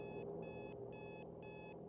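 An alarm clock rings inside a video game, sounding as four evenly spaced electronic beeping bursts over a low steady rumble, fairly quiet and with no voices.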